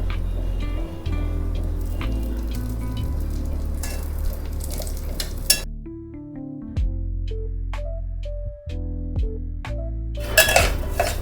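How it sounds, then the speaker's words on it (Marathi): Semolina toasting in ghee in a pan is stirred with a metal spoon, producing repeated clinks and scrapes against the pan over a low frying hiss, loud and close, with a brief quieter stretch midway. "आता आपण छान थोडासा लालसर होईपर्यंत हा रवा तुपावरती भाजून घेऊया"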